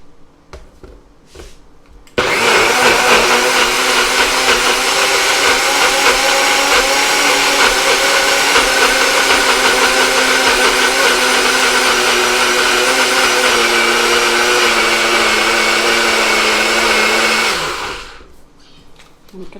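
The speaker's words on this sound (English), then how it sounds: "And then just blend this up." Countertop blender whirring through quinoa for a bread batter, a loud steady roar that starts abruptly, holds for about fifteen seconds and winds down at the end, with no talking.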